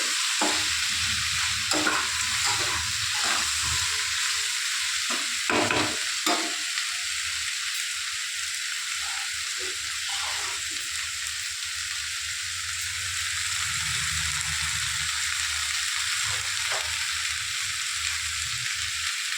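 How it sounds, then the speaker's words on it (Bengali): Green chilies fry in hot oil in a pan, giving a continuous sizzle broken by repeated scraping stirs of a spatula throughout. "কাঁচা লঙ্কাটা দিয়ে দিলাম। এটা একটু ভাজা ভাজা হবে।"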